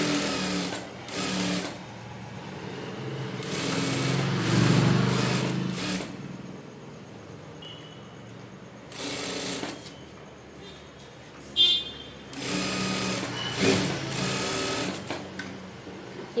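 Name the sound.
sewing machine stitching blouse lining and main piece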